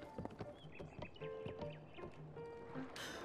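A horse in the video game Zelda Tears of the Kingdom clops and whinnies, quick hoofbeats alongside tonal game sound effects, ending with a sudden burst of noise.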